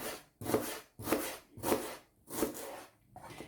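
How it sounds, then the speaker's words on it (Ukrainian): A knife slices an onion into rings in four or five even, rhythmic strokes, each a scraping crunch, close up with no talking. "Нарізаю під кільцями, притискаю, щоб з них почав виділятися сік"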